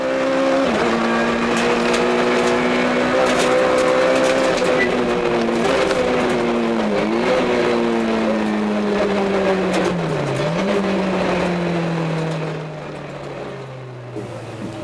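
A Peugeot 106 rally car at the Rallye de la Guirlande, its engine loud and close as it revs hard through several rising pulls with brief gear-change dips, then drops to a falling note under braking and fades at the end.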